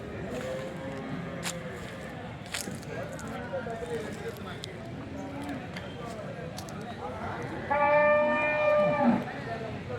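Cattle moo amid a busy outdoor crowd at the weekly Wednesday cattle market in Punganur, with one loud, drawn-out moo close by near the end and people talking throughout.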